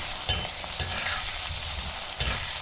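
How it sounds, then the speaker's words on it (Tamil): Tomatoes and vegetables are sautéed in hot oil for an eggplant kuzhambu, a steady close sizzle broken by a few sharp scraping stirs of the spoon against the pan. "தக்காளியை சேர்த்து நல்லா வதங்குற வரைக்கும் நம்ம வதக்கி விட்டுக்கலாம்"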